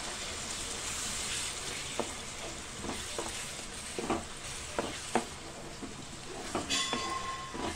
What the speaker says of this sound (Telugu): కొంచెం ఆయిల్లో వేగాలి.